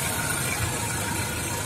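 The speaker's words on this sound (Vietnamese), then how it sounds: "Máy rất là khô và đang hoạt động, nổ rất trơn tru và êm." A 2017 Suzuki Super Carry truck engine idles smoothly, a steady, even running drone with no rise or fall throughout, close and fairly loud, with no talking.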